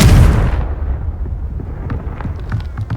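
Confringo blasting spell explosion in Hogwarts Legacy: one loud, heavy boom right at the start, then a long rumbling decay with scattered crackling debris.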